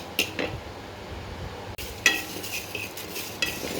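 Panch phoron spices with a dried chilli lightly frying in a pan, heard as a soft, steady sizzle with a few metallic clinks of a utensil stirring against the pan.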